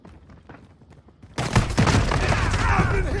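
Dense gunfire erupts in a Call of Duty Modern Warfare multiplayer match, quiet scattered shots giving way to a sudden loud, sustained barrage of rapid automatic fire and impacts, close and continuous to the end.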